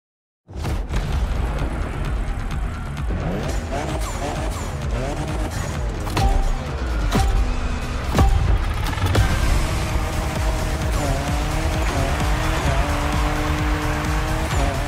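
A car drifts in The Crew Motorfest, tires squealing in long wavering screeches over a loud revving engine, sustained and close for most of the stretch after a sudden start.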